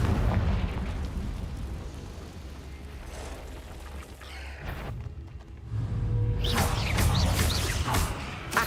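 Spell explosions from Confringo in the video game Hogwarts Legacy, with dense rumbling blasts and crackling bursts in a loud combat scene, a brief dip partway through and then another heavy eruption with crackling debris.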